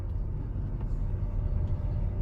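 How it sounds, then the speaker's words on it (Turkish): A steady low engine rumble and road noise from inside a moving car before dawn in Adana, constant and even throughout. "Araba böyle ses yapıyor işte."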